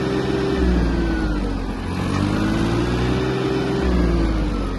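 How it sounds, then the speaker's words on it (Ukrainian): An Iseki Sial 193 Japanese mini tractor accelerating, its engine a steady loud drone that rises and dips in pitch as it quickly reaches top speed, close by with no talk. "трактор майже миттєво набирає свою максимальну швидкість"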